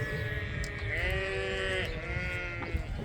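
Sheep bleat in a farm pasture, a few drawn-out wavering calls carrying at moderate distance over faint outdoor background noise.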